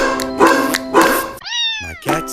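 A cat meows once loudly and close by, a rising drawn-out call following a stretch of other vocal sound, with a short further sound at the end.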